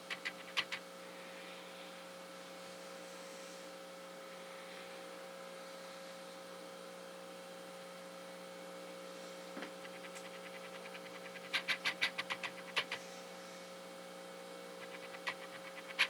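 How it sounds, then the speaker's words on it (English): A robotic assembly machine runs in a factory bay, giving off a steady electrical hum with scattered mechanical clicks and short bursts of ticking, without talk. "Here we have a robotic assembly machine."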